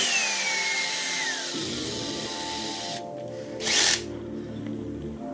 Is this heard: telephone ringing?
no